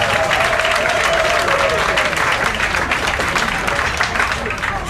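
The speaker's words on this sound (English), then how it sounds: "I'm glad that you can applaud" A banquet audience applauds in dense, sustained clapping that fills the room, loud and close, with a faint voice briefly audible underneath.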